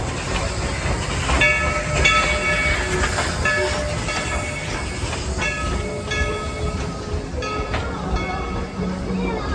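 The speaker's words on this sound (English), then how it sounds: "You'll also want to ride the train." A Dollywood theme park train rolls along with a loud rumble and hiss, its wheels clanking rhythmically while steady whistle-like tones ring out over the noise.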